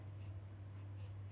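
Pen writing out a class 11 math set-theory solution, a soft continuous scratch of strokes close by over a steady low hum, with no talking.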